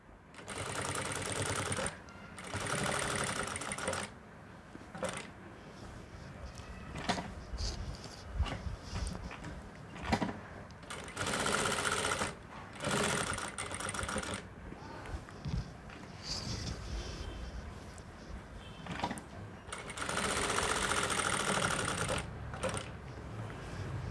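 A sewing machine stitches the neckline of a churidar top in bursts of rapid mechanical whirring that stop and start, with someone speaking between and over the runs.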